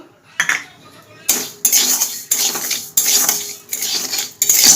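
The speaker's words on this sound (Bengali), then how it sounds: "গোবিন্দভোগ চালটা একটু ভেজে নেব।" Dry Gobindobhog rice toasting in a pan, with a series of loud, close scraping and rattling strokes every second or so as a utensil pushes the grains against the metal.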